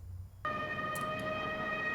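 A steady, sustained siren from the 1954 film Rear Window starts abruptly and holds a clear tone, with a couple of faint chirps over it.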